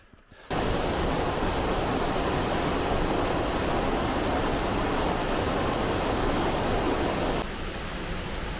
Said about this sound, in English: Hey, look at that waterfall right there.